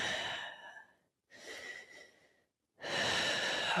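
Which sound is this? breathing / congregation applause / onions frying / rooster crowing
breathing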